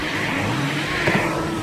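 A car races past on a road near a residential tree-trimming job, a short steady engine roar with a brief swell around the middle, with no voices over it.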